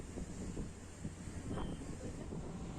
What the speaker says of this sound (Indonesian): nggak bikin keringetan karena hembusan angin yang gede banget